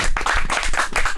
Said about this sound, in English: Now everybody stop clapping